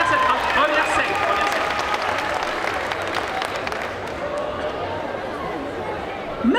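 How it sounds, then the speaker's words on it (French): Audience applause and cheering at a cosplay parade on stage at Bordeaux Geekfest 2023, a dense, steady wash of clapping and crowd noise carrying on for several seconds with voices mixed in. "l'énergie, les applaudissements, ça j'approuve, on continue sur cette lancée"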